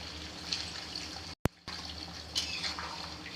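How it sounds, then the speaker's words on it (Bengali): Water splashes and trickles into a pot of chicken and new potato curry, a soft liquid pour with a sharp clink and brief gap midway, near and quiet. "এখন ঝোলের জন্য পানি দিয়ে দেবো"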